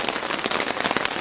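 Rain patters steadily and densely on a tarp pitched beside a stream, a close, continuous drumming with no voices over it.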